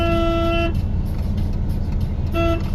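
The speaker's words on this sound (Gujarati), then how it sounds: "આપણે સેજ હોર્ન મારતા રહેવાનું" A car horn sounds while driving, two steady honks, the first about 0.7 seconds long and a second brief one near the end, loud and close over a continuous low road and engine rumble.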